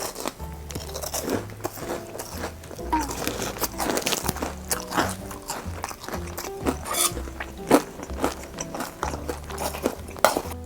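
Fried shrimp bitten and crunched up close during a meal, with repeated crisp crackling bites and chewing in uneven bursts, plus occasional soft clinks of utensils or dishes.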